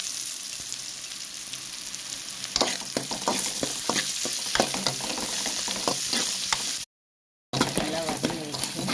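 Onions sautéing in a pan for a Madavai (mullet) fish kulambu, a steady close sizzle with scraping stir strokes, cut by a brief gap of silence near the end.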